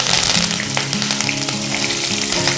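Onion, green chilli and curry leaves frying in a hot tempering for a carrot and coconut fry, a loud continuous close sizzle with light crackles throughout and no voices.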